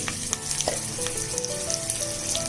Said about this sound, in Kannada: ಸ್ವಲ್ಪ ಹುರ್ಕೋಬೇಕು ಚೆನ್ನಾಗಿ ಕಾಲನ್ನ, ಹಸಿ ವಾಸನೆ ಹೋಗ್ಬೇಕೆಲ್ಲ